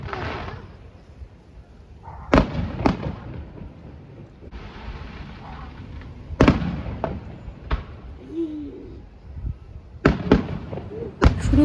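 New Year fireworks burst over Tauranga, New Zealand, in a series of sharp, cracking booms spaced irregularly, some in quick pairs and clusters, echoing between blasts with faint background murmur.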